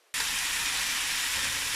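Shredded pork with scallion whites and small red chilies stir-fries in a hot wok, a loud, close, steady sizzling hiss that bursts in suddenly and holds for under two seconds.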